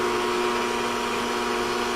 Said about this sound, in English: you'll now turn on blender and it'll start spinning the water